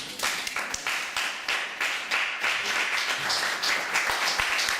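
A church congregation applauding together, a dense, lively burst of many hands clapping steadily in a reverberant hall, with faint voices underneath.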